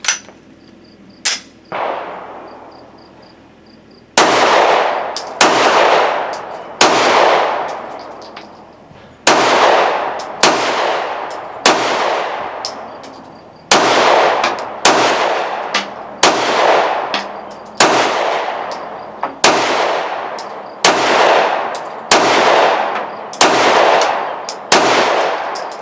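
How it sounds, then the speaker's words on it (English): A Ruger Security 9 pistol firing a fifteen-round magazine, sharp loud cracks at a steady pace, each with a ringing decay, after an early stray shot and a short pause. "Now we'll put another 15 rounds through it"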